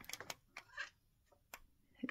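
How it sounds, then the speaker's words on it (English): A house cat meows indoors during a craft session making an artificial Christmas door swag, giving a few short, faint calls scattered over a couple of seconds, close to the microphone. "Excuse the cat, guys."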